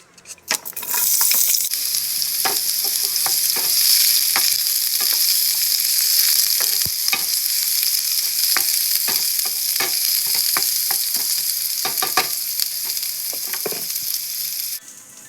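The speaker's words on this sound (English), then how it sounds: "put some olive oil in the pan and fry the onion" Onion frying in olive oil in a pan, a loud, continuous close sizzle that holds steady throughout, punctuated by frequent sharp pops and crackles.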